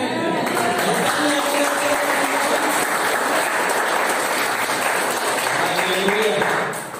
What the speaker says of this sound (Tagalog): Si Lord deserve niya yung palakpak.